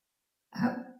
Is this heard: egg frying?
no